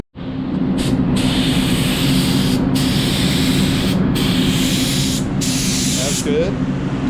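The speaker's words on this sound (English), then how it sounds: "Might be able to lower the air pressure on the gun." A paint spray gun applies dye to an automotive interior in a Wagoneer, producing loud, close hissing bursts in several long passes separated by short gaps, with people talking over the spray.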